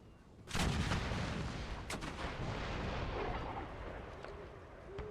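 Cannon artillery fire in an Empire Total War battle, using the Imperial Destroyer mod: a loud, close boom opens a sustained rumbling barrage, with further sharp reports and a continuous roar of battle that runs to the end without speech.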